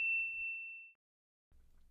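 A single bright notification ding rings out and fades over about a second, followed by brief low background rumble.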